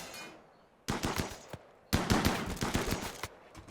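A chain shotgun fires in the RimWorld video game during a fight with a fleeing raiding group. Two loud, rapid bursts of repeated shots come close together, and a single shot falls between them.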